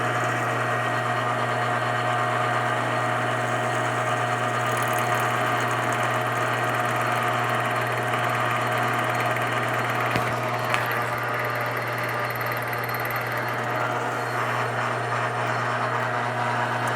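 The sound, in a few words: lathe taking a boring pass on a rifle muzzle brake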